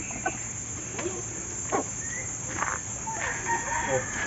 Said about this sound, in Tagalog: Silipin natin yung kanyang mga labuyo.